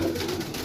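Pigeons cooing at a bird seller's in Pakistan, a short low throaty coo close by with faint background noise.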